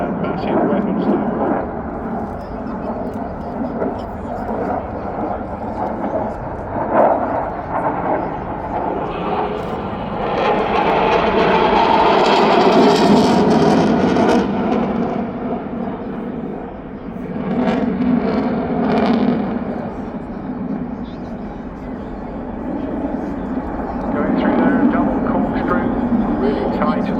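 A military jet roars past at a seaside airshow. The loud, sustained engine rumble swells to a peak, fades, and then rises again, while a commentator talks over it.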